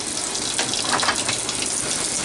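Outdoor washing machines filling with water, a loud, steady gushing rush like a running tap, continuous and close with no talk.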